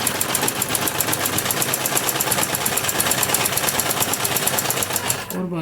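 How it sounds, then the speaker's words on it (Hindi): A sewing machine runs steadily, stitching close along the buckram edge of a kurti back neck, its rapid needle rhythm continuous and close up until it stops abruptly at the end. "चारों तरफ हम बुकरम की किनारे के पास पास से सिलाई लगाते हुए जाएंगे।"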